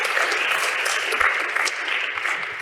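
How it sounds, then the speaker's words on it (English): Applause from a seated audience at a scientific talk after a speaker is introduced, a steady dense crackle of many hands, moderately loud and continuous throughout. "please join me and just give him an applause"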